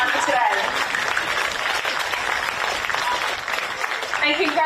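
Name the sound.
applause at grand final presentation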